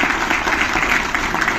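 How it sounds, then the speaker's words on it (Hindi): An audience at a Delhi government programme breaks into dense, steady applause, close and fairly loud, with a voice faintly underneath. "एक बार जोरदार तालियां"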